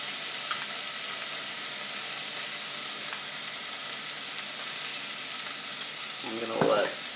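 French bread pizza ingredients with marinara sauce sizzle steadily in a hot pan, a continuous mid-level fry with a few faint clinks, and a brief closer rustle of stirring near the end.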